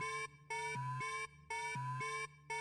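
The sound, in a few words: intruder security alarm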